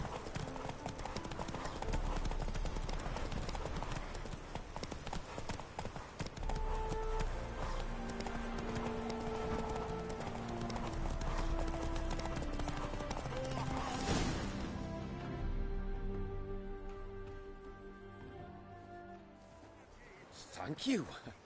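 Roach, Geralt's horse in The Witcher 3, clip-clops along in a steady hoof rhythm alongside background game music, with a short snort or whinny and brief talk late in the scene.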